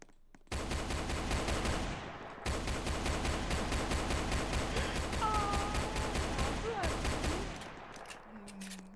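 Rapid automatic gunfire in a video game, long sustained bursts with a brief pause, loud and close, ending with short electronic tones.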